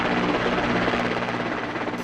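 A dense, steady roar of helicopters and military aircraft flies over Rajpath during a Republic Day flypast, loud and continuous with no clear gaps.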